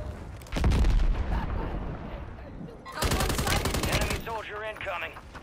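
Heavy automatic gunfire in Warzone 3, two dense bursts of rapid close shots separated by a quieter stretch, with a voice speaking over the action.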